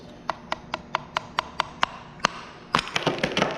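A piece of clay is tapped in a steady series of about ten sharp, ringing knocks, then a quicker cluster of louder, overlapping taps and handling sounds at the end; close and clear with no talking.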